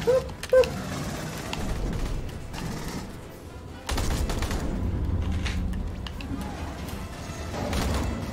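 A gun in Aliens: Colonial Marines fires short three-shot bursts, rattling volleys that repeat across the stretch amid constant game noise, with people talking underneath.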